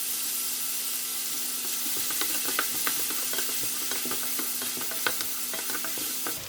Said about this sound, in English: I'm going to fry the onions with the same oil. And I'm going to put in the curry leaf.